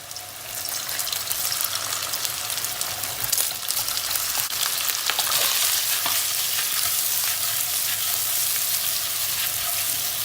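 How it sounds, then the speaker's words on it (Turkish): A steady, loud sizzle of meatballs sautéing in hot oil, with occasional stirring scrapes, continuous throughout and no talking. "Köfteleri bir soteleyeceğiz."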